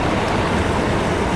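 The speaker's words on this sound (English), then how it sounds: "the water is rushing in over the rocks here, making a little waterfall" Water rushes over rocks into a small waterfall in a gully, a close, continuous broadband splashing hiss with no speech.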